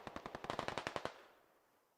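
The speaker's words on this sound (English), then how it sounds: "There's someone shooting at the MTLB." Rapid automatic gunfire in the game Squad, aimed at an MTLB armored vehicle: a burst of about a dozen sharp evenly spaced shots over one second, then a fading echo tail.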